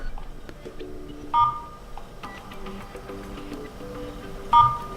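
Keypad tones sound on a General Mobile GM 5 Plus phone as a secret code is entered, with several short beeps scattered among quieter background sounds.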